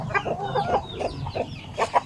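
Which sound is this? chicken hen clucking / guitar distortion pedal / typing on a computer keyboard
chicken hen clucking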